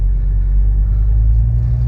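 A 1985 wagon with a healthy engine pulls hard under full throttle in a 0-60 run, heard as a loud, steady low rumble from inside the car, with no talking.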